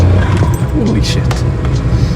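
A modified Mira car accelerating at half throttle, its engine rumbling loud and close throughout the short burst, with people talking over it.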